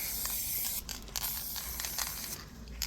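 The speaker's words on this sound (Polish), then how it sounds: "I tak wiecie, jak to się maluje po prostu sprayem." Spray paint hissing out of an aerosol can onto a dried flower Christmas decoration, a steady close-up spray with short breaks between bursts.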